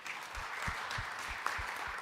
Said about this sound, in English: An applaud,